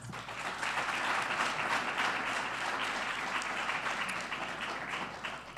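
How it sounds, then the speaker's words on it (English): An audience at a 2021 Albuquerque mayoral candidate forum applauds the candidates in a steady, dense wash of clapping that holds at full strength throughout. "Please give them a big round of applause."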